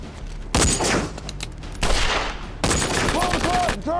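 Heavy gunfire in a D-Day battle scene: dense bursts of rifle and machine-gun fire crack loudly and continuously at close range, with brief lulls between volleys and whistling ricochets near the end.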